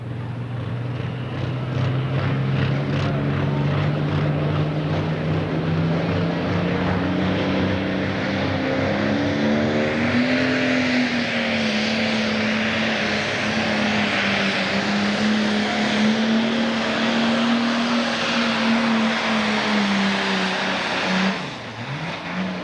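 A pulling tractor drags a sled at full throttle in a 10,000 lb pro tractor pull at Taylorville, Illinois, its engine roaring loud and continuous as the pitch climbs steadily, then cutting off sharply near the end.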